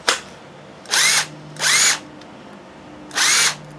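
A Makita BHP452 18V cordless hammer drill with a faulty gearbox runs in three short bursts of about a third of a second each, loud and close, with a rough whine and pauses between bursts.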